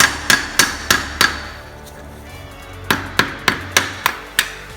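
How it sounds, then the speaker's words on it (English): Sharp, loud hammer blows knock out the old rear main seal on a Honda Civic Si during a transmission and clutch job, five evenly spaced strikes, a pause, then six more close up. "So just popping out the rear main seal here, the old one. Hammer."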